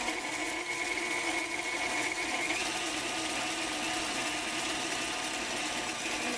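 Chocolate chess pie batter mixed with an electric mixer after each egg is added, a steady whirring motor hum running continuously and fairly loud throughout, with no talking.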